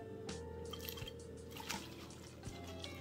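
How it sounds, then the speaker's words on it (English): Sorrel being washed in water for Jamaican sorrel drink, with close, soft splashes and drips as the leaves are rinsed and handled, low and intermittent. "I'm going to wash my sorrel."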